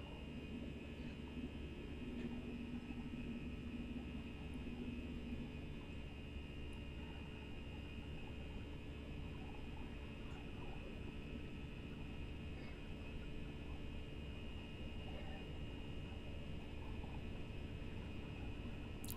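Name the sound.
Airbus A319 takeoff roll in flight simulator video game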